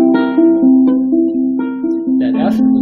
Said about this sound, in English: So let me play the second half for you. It sounds like this.